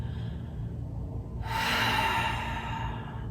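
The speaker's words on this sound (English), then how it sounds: "Let's take a deep breath." One deep breath is drawn in close to the mic at the start of a hatha yoga class, a long, airy inhale that swells and then holds steady.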